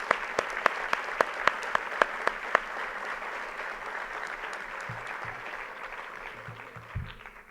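An audience at a tribute ceremony applauds steadily in a large hall, with a few sharp, close claps standing out at the start. The applause slowly fades, and a voice speaks faintly near the end.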